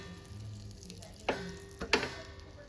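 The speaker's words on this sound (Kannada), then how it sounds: "ಈಗ ಇದಕ್ಕೆ ಬಟರ್ ಹಾಕೋತಾ ಇದ್ದೀನಿ" Butter melting in a pan for toasting a cucumber sandwich, a faint steady sizzle close by, with two brief louder clicks or taps of a utensil near the end.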